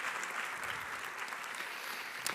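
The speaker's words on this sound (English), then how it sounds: "I give her a little bit of an applause." An audience at the opening of an academic year applauds as a steady, dense patter of clapping from a crowd that keeps an even loudness throughout.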